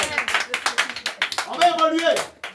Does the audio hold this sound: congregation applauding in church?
yes